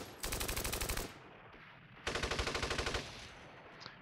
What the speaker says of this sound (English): got some opportunity fire there